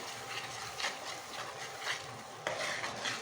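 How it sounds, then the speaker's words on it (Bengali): Mustard paste being stirred into a spice mix in a pan while making mustard hilsa, with a soft, steady scraping and sizzle broken by several louder stirring strokes, close and with no one talking. "এখন এর মধ্যে দিয়ে দেব সরিষা পেস্টটা, দিয়ে ভালো করে নেড়ে নেব।"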